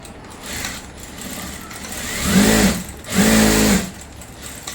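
A sewing machine runs a straight double stitch along a salwar pant seam, its motor whirring in two distinct loud bursts over a lower background hum, close and without talk.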